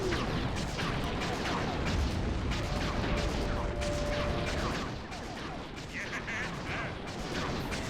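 Continuous gunfire and booming blasts in Sly 3: Honor Among Thieves, loud and dense throughout, easing slightly toward the end, with a voice talking faintly underneath.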